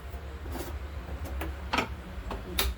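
Hands pat millet flour bhakri dough flat in a village kitchen, giving a few soft, close, irregular slaps spaced through a quiet moment with no talking.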